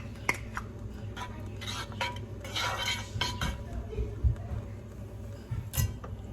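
Pan clinks and scrapes while ghee is added for sheer khurma, light metallic knocks and rattles of cookware at close range over a low background hum, with no voices.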